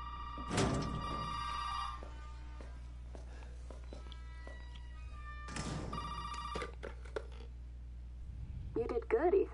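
A telephone rings in a PS4 horror game, with two loud bursts of ringing separated by footsteps and thuds, and a voice talks near the end.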